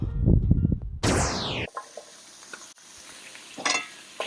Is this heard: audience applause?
no